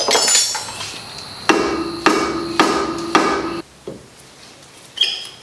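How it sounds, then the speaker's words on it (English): Sharp metallic hammer blows on a stuck brake rotor on a 1991-95 second-generation Toyota MR2, four evenly spaced heavy strikes followed by two lighter taps, close and loud. "So what you have to do is actually pry it off or hit it off."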